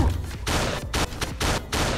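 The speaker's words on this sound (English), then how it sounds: "I'm shooting you in the head." Rapid gunfire in the VR combat game Gorn, a loud burst of several close shots in quick succession with short gaps, dense and punchy.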